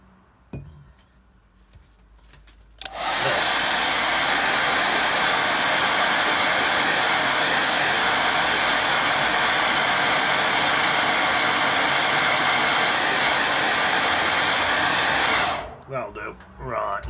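A hair dryer drying a watercolour painting switches on abruptly and blows in a loud, steady rushing whoosh for about twelve seconds close by, then cuts off, leaving light handling sounds.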